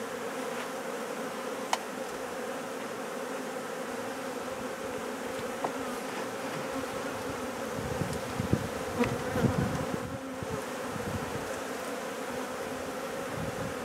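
Bees buzzing steadily up close around a hive feeder, a continuous drone with a few louder passes and faint knocks partway through.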